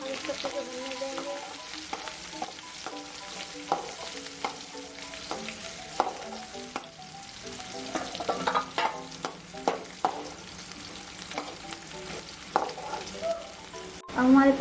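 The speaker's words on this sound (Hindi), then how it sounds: "हम इसको अच्छे से भूनने देंगे।" Onion and garlic with cumin frying in ghee in a kadai, a continuous soft sizzle with intermittent scraping stirs and clinks of the spoon, fairly close and steady throughout, no talking.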